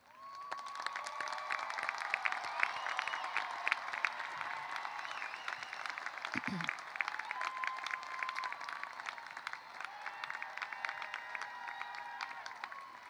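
An audience at a university commencement applauds graduates with academic honors: steady, sustained clapping from a large crowd, fairly soft and distant, with scattered cheers and a brief low thump partway through.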